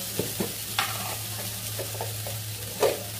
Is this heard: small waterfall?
no